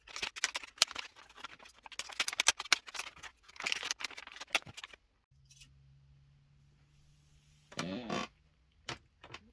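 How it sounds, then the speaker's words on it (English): Scissors snipping little ribbons off Dollar Tree Christmas decorations: a quick run of close, crisp cuts and rustling, then quiet with a faint hum, and a few more snips and clicks near the end. "I'm going to open all these up and cut all these little ribbons off"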